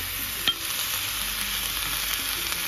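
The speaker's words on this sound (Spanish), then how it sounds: "Aquí solamente los vamos a saltear un momento junto con la cebolla y el ajo." Shrimp sauté with onion and garlic in a hot pan, giving a steady, close sizzle and frying hiss throughout, with a brief stirring clink near the start and no talking.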